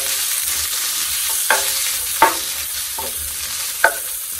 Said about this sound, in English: Get these all stirred down.